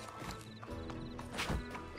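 A horse in Red Dead Redemption 2 clip-clops away with a soft whinny and snort, hooves steady and fairly close, with no talk over it.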